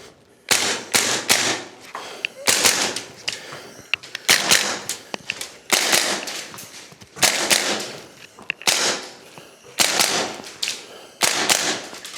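An APFG VFC MPX Copperhead gas blowback airsoft rifle fires in rapid bursts of sharp, loud cracks, several strings of shots separated by short pauses, with no talk.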